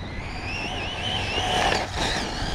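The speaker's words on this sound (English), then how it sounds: "That's full throttle" An Arrma Typhon 6s RC car runs at full throttle, its electric motor giving a high rising and falling whine with gravelly crackle from the tires, fairly near and continuous.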